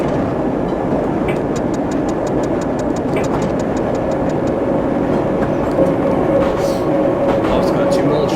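A 1973 Piccadilly line stock train from the Train Simulator 2019 game rumbles steadily along the track with a constant loud roar and rhythmic clicks, while someone talks over it throughout.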